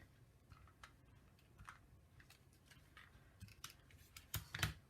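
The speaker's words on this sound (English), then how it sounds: "I have to trim it to do that. Where's my scissors?" Scissors snip craft material at a home crafting table, producing quiet, sparse metallic cuts with a few sharper, louder snips near the end.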